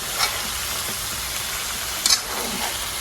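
Raw mango pickle mixture with spices being stirred, a continuous hissing sizzle with faint scraping of the spoon and a couple of brief clinks, close and fairly loud with no voices.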